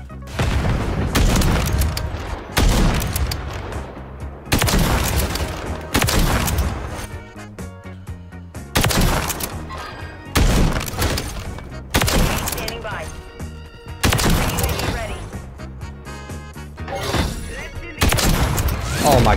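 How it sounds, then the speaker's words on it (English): Call of Duty MW3 video game gunfire with heavy booming shots and rapid automatic bursts in loud repeated waves, a voice talking intermittently over the clatter. "who's shooting me"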